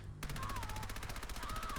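The tri-barrel Gatling pistol from Fallout 4 fires a rapid, steady burst of rattling shots for almost two seconds. It sounds close and dense, with a faint voice underneath.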